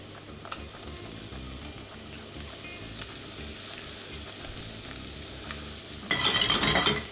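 Shallots, garlic and star anise frying in rendered duck fat in a pan, a steady close sizzle with faint stirring scrapes that swells into louder crackling spatter near the end.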